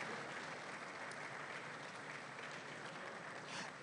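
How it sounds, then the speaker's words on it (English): Audience at an e-learning conference opening giving steady, continuous applause, a dense field of many hands clapping at moderate volume, slightly distant, with no voices over it. "Please, clap for her even as she comes."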